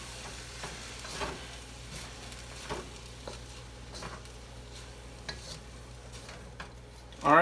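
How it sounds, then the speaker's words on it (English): Fried rice with oyster sauce being stirred in a pan, a quiet steady sizzle broken by soft scrapes and light taps of the spatula, with a louder clatter right at the end. "Alright, finish stirring this in here."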